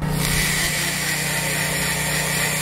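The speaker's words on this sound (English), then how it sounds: "I'm just going to drill." A power drill whirs loudly and continuously as it bores into wood, a steady high-pitched grinding that holds for the whole stretch.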